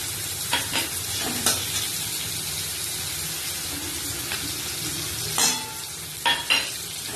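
Cauliflower, potato and paneer with turmeric, cumin, coriander and chilli powders stirred in a pan: a steady sizzling hiss with scattered scrapes and a few louder clanks of the spoon near the end, close up, without speech.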